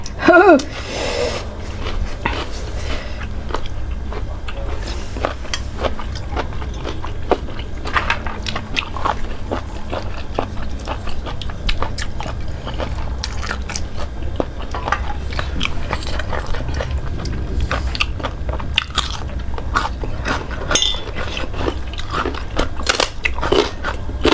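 Someone eats a very spicy dipping sauce with vegetables, with close crunchy bites and wet chewing repeating over a steady background, while a person talks throughout.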